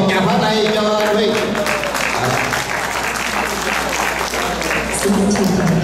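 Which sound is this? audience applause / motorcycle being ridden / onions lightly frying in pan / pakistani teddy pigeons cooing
audience applause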